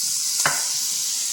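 Chopped onions and onion tops sautéing in a pan: a steady hiss of sizzling with one brief stir or scrape near the start, no voices.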